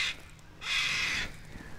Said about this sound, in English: Not a fan of YouTube, that bird.